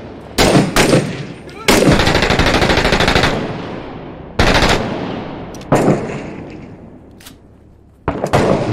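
Rapid bursts of automatic rifle fire crack loudly in the Six Days in Fallujah video game, several sharp volleys spaced apart with rattling echoes trailing off between them.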